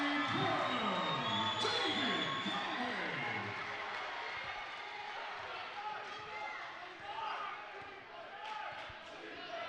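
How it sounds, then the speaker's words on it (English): A basketball crowd roars and cheers in a gym after a made shot, a dense, loud wash of voices that gradually settles, with an announcer talking over it. "you can hear the crowd really getting into it"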